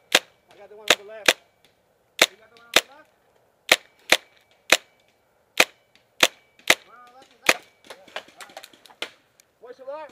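Sharp, loud shots crack one by one and in quick pairs during a skirmish game, spaced irregularly, while people call out between them.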